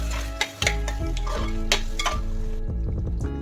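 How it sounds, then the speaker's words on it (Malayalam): Beef masala cooking in a pan for biryani as yogurt is added: loud, close spoon stirring and scraping with metallic clinks over a low sizzle, with no one speaking. "ബീഫ് മസാല ഒക്കെ പിടിച്ച് വന്നിട്ടുണ്ട്. ഇനി അതിന് 1 കപ്പ് തൈര് ഒഴിച്ച് കൊടുക്കുന്നുണ്ട്."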